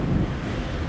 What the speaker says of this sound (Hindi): एक तो तेज हवा